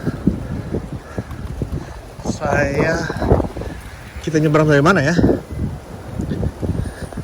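Strong wind blows outdoors in Beijing, buffeting the microphone with loud, gusty rumbling in uneven surges while a person talks throughout.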